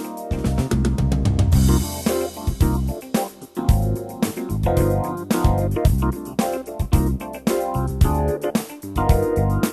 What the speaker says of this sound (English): What you hear now is actually not only one arpeggiator, no, we hear 4 arpeggiators I can run now at the same time.